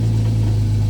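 Engine of a 1990 Jeep Cherokee XJ with the Renix 4.0 inline-six, running after an injector swap to Volvo injectors, holds a loud, steady, close-up low drone with no voices.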